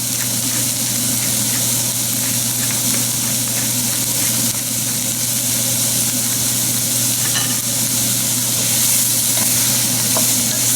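Vegetables sweating in a pan give a steady, dense sizzle and hiss that runs the whole time, with occasional soft stirring scrapes and no talk.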